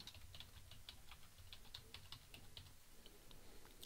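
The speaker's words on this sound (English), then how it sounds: "I'll start typing in the text." Fast, light keystrokes on a computer keyboard while entering text in a drawing program, an irregular run of soft clicks heard close and quiet with no talking.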